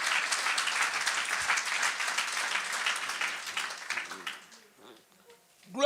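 A church congregation claps and applauds together through a worship service, a dense burst of hand claps that gradually thins out and fades toward the end.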